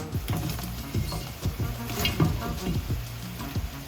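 Ingredients tossed into a hot pan of oil while cooking a meal, giving a steady close sizzle with a few soft knocks and stirring scrapes, plus a hint of background voice.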